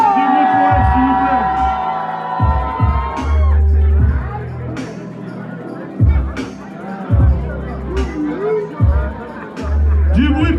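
A concert crowd in Brest cheers and whoops in loud repeated swells between pauses, with a performer's voice heard over the noise.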